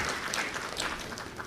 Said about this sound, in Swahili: naomba tena tuwapongeze kwa makofi mengi kabisa kabisa